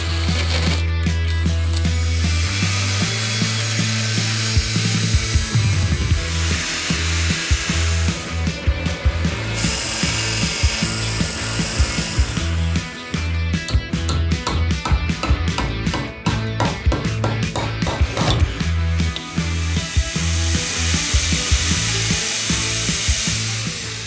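Metal brackets for a motorcycle brake line job being drilled and cut, with loud close power-tool whine, rattling bursts and rapid choppy cutting noise over a steady motor hum.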